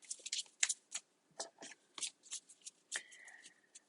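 A tarot card deck being shuffled by hand: crisp riffling and slapping bursts in an uneven rhythm, close and fairly loud, with no voices.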